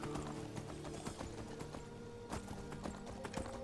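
Horse hooves galloping in Skyrim, a rapid, regular clip-clop of hoofbeats on hard ground, quiet and steady throughout, with faint mechanical clicks and a low background hum.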